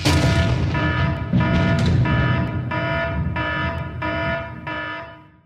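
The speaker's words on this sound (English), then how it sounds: "let's throw up the Disaster Tribe alarm" A loud buzzing alarm sound effect on a competition reality show, repeating in steady pulses about every two-thirds of a second for several seconds before fading.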